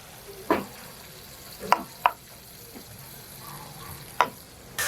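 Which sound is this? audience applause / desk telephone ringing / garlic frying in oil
garlic frying in oil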